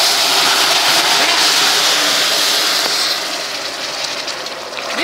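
Water poured into hot caramel syrup on the stove, a loud sustained hissing sizzle with steaming that gradually eases off, no voices over it.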